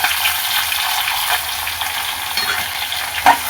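Coconut, chopped tomatoes and tamarind stir-frying in a pan for a tomato chutney: a dense, steady hiss and crackle, loud and close, with a faint scrape near the end and no voices.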